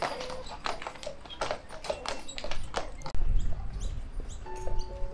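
Hooves of a white horse pulling a carriage at the Port of Echuca clop in a steady rhythm close by, with birds chirping and people chatting around, then a heavier low rumble as the ride gets underway.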